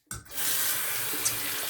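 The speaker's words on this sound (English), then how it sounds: "I'm going to pour this bloom water out into my hand." Bloom water from a Catie's Bubbles Barnegat Bay shaving soap pours into a hand as a short, steady, close splashing trickle lasting over a second.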